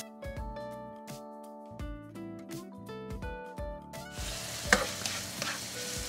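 Pork belly (liempo) sizzles in a dry pan without oil as it renders its own fat, a hissing fry rising in the second half beneath prominent background music.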